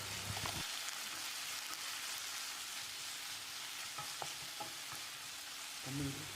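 Tomato masala with turmeric and chili powder sizzles in a pan while being stirred, a soft continuous frying hiss with occasional scraping clicks of the spoon, close and fairly quiet, no talking.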